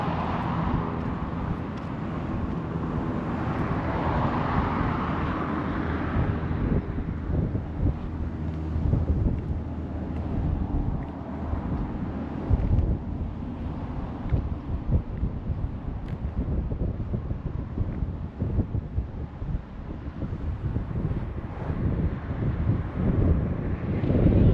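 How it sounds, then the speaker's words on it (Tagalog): Cold wind sweeps across Paraparaumo Beach, New Zealand, buffeting the microphone with a loud, continuous roar and rumbling gusts; it runs unbroken and nobody speaks. "Lamig ng hangin."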